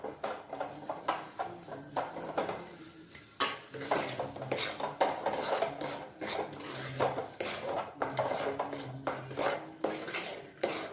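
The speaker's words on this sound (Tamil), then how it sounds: "கொஞ்சம் கொஞ்சமாக மெல்ட் ஆக ஆரம்பிச்சுட்டு இருக்கிற சர்க்கரையை போட்டு கிண்டின்னு இருக்க வேண்டியதான்" A spoon scrapes and clinks against a pan while stirring rava kesari as the sugar melts into the semolina. The strokes are rhythmic and repeated, close and moderately loud, with no talking.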